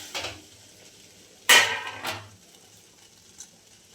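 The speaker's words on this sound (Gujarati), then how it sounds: "આપણે ગેસ ઉપર એક સ્ટીલનું તપેલી લીધી છે, એમાં આપણે આ નાખી દેવાનું કેરીનું સીણ।" Grated raw mango tipped into a steel pot on a gas stove, a bright metallic clatter and scrape against the steel, then a couple of fainter knocks fading into quiet.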